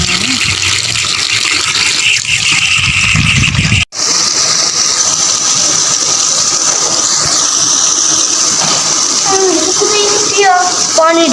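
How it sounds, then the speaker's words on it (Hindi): Water gushes steadily from a tap for washing vegetables, a loud continuous rush with engine-like hum and a voice in the background. "पानी आ गई"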